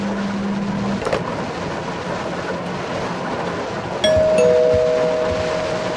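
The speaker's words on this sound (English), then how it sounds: "The doorbell again?" In the horror game Suffer The Night, a doorbell chimes over a dim stormy background hum, with a brief early tone followed later by a clear ringing two-note chime.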